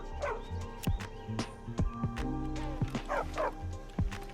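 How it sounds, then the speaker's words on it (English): An angry dog in a Fallout game set in the Boston area barks and yips in quick irregular bursts, with whimpering tones in between, fairly close over a steady background. "Angry dog."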